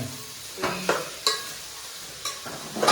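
Freshly added kalingda pieces being mixed in a cooking pan, with a few short scraping stirs over a faint sizzle, close and fairly quiet.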